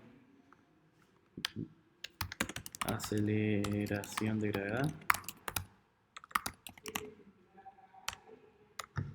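Clicky typing on a computer keyboard in bursts of rapid keystrokes, with someone speaking Spanish between and over the taps in a quiet room.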